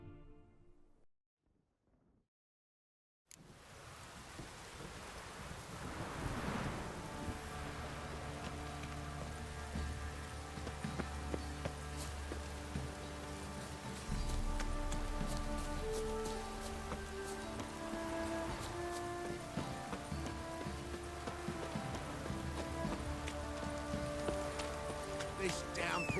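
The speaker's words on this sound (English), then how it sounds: "This downpour's a bastard," Steady heavy downpour in The Witcher video game, a dense continuous hiss of rain on surfaces filling the scene after a brief silent start, with faint horse hooves and game music underneath.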